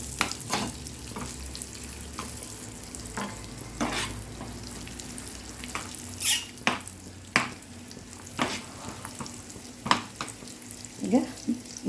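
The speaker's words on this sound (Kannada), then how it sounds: "ಚೆನ್ನಾಗಿ ಫ್ರೈ ಆಗಲಿ." Raisins fry in a pan while being stirred, with a soft background sizzle broken by irregular scraping and clinking knocks of the spoon against the pan, close by, with faint speech.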